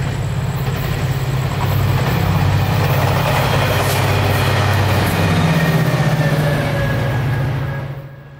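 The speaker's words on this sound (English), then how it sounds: "there was a Sunrail train coming south even at this time of night" SunRail passenger train rushing past at night, a loud, steady roar of engine and wheels for several seconds that drops away sharply at the end.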